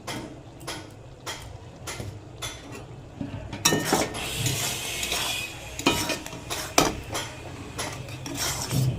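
A spoon scrapes and knocks around a pan as egg curry with garam masala is stirred, making irregular clanks and scraping strokes over a soft sizzle, close and fairly loud.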